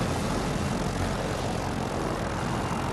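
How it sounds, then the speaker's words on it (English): In Battlefield 2042, a jet aircraft flies past with a continuous loud engine roar that holds steady throughout, dense and close. "Yep, there's the jet again"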